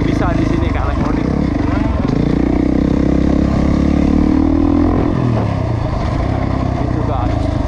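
A 2021 Husqvarna FE 450 dirt bike runs on the Icon motocross circuit, its engine loud and close, rising and falling in pitch as it revs and shifts, with a voice talking over it.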